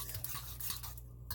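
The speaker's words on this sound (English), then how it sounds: "mix your ricotta cheese together really, really, really good" A spoon works through a ricotta cheese mixture for lasagna, giving a steady, soft, wet scraping with faint clinks against the bowl, close and quiet, with no talking.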